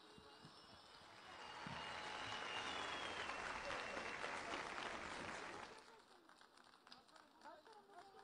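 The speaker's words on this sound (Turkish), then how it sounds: "Güçlü alkışlarınızla." Crowd applause at a municipal ceremony in Gölbaşı, Ankara, swelling into a loud, dense burst of clapping for several seconds before fading back to murmuring and speech.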